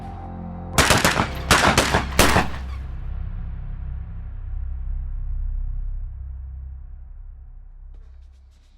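Rapid bursts of gunfire on a range during a military shooting test, three loud close volleys in quick succession followed by a fading echo and low rumble.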